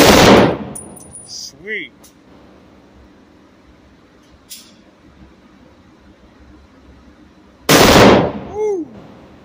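Two loud .30-06 rifle shots ring out at a gun club, one at the start and another about eight seconds later, each with a sharp crack and a ringing tail. A voice is heard briefly between them.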